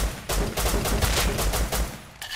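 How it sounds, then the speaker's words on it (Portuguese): A rapid burst of automatic gunfire in the survival game Rust, roughly a dozen sharp close shots in quick succession over about two seconds, then a brief pause before another shot. "tá escutando tiro pra cá"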